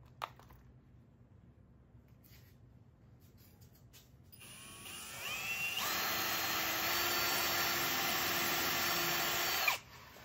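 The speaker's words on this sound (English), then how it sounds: "so I'm going to pre-drill my holes, and then I'll be able to screw in." A power drill pre-drills screw holes in wooden furniture, starting with a faint lead-in before a loud, steady high whine that holds for several seconds and then cuts off abruptly.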